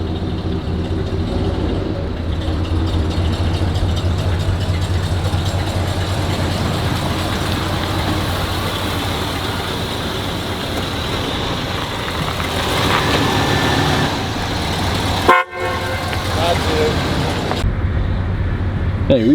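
A 1968 Cadillac DeVille engine running steadily as the car pulls out, a low continuous rumble close by, with a short sharp knock near the end.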